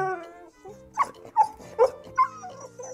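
A small dog gives a few short, high yips and whimpers, spaced out, sounding close with quiet moments between.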